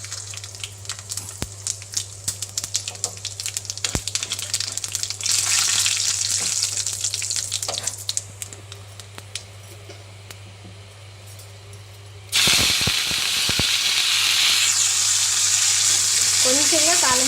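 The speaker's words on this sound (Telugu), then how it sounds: "ఇదిగోండి తాలింపు పెట్టేస్తున్నాను" Spices tempering in hot oil crackle and sizzle in a home kitchen, sharp pops scattered over a steady hiss that bursts much louder partway through, close to the pan.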